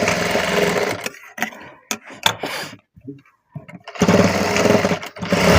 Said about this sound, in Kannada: ಈ ರೀತಿ ಸೈಡ್ನ ಸ್ಟಿಚ್ ಮಾಡ್ಕೊಳ್ಳಿ.